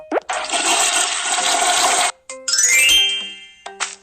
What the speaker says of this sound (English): Flush the toilet after using the bathroom.